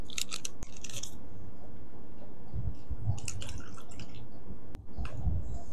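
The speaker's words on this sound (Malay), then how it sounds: "Masukkan air ke dalam beg plastik yang lebih kecil." Water is poured into a small plastic bag for a calcium chloride experiment, giving faint crinkling plastic and scattered soft drips and splashes close by.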